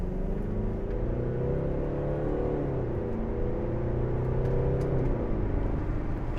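A 2012 Mercedes-Benz SLK250 CDI with a 2.1 diesel engine and 7G-Tronic automatic accelerates, a close, steady engine drone whose pitch rises, dips at a gear change, then climbs again.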